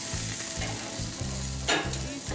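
Sausages sizzle on a backyard grill in a steady, close crackle, with a low rhythmic thumping underneath and a brief sharper hiss partway through.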